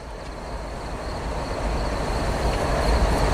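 A freight train rolls along the line at Tehachapi, a broad low rumble of wheels and cars that grows gradually louder, with faint high squeals on top and no talking.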